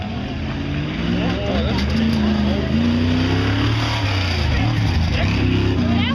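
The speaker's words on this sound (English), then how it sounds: "now we got a 72 Ford Bronco out of East Petersburg" A 1972 Ford Bronco tough truck from East Petersburg roars through a racing run, its engine revving and shifting in loud rising and falling sweeps, while an announcer talks over it throughout.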